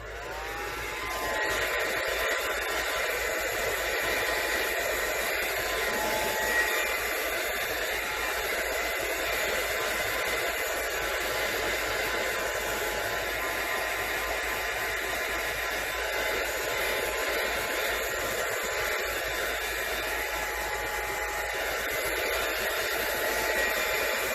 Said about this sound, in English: Let me put my blow dryer on and just dry everything to make sure we're all dry.